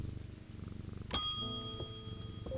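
A cat purring when patted in the video game Strange Antiquities, a soft rhythmic purr throughout, interrupted midway by a bright ringing bell-like chime that rings out, with no talk.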